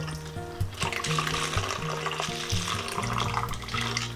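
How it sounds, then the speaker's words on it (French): Water poured from a container into an opened plant-cutting pot, just a small amount at the bottom, a steady close filling sound running throughout with a tonal music-like background underneath. "on va la remplir d'eau, comme ceci"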